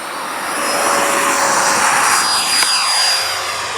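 A Freewing 90mm F-22 RC jet with a KM afterburner fitted roars loudly and steadily as it accelerates for takeoff at dusk, the turbine whine rising and then sweeping past close by.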